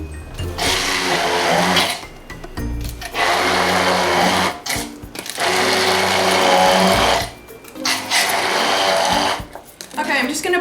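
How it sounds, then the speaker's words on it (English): A kitchen blender purées avocados for a vegan mayo spread, running loud in bursts of about two to three seconds with short pauses between them. "We're going to start by blending the avocados before we add in the oil."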